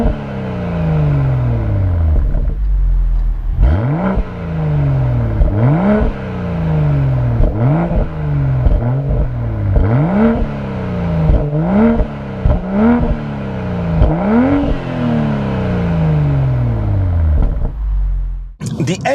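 A BMW M340i xDrive revs its engine repeatedly, the exhaust rising and falling in sharp, loud bursts with a steady idle underneath, the revs sweeping up and dropping back many times in succession.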